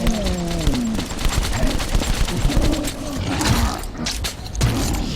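Weapon fire in the video game Metro 2033, a dense stretch of repeated shots mixed with mechanical clatter and growling creature noise, loud and close, with no clear talk over it.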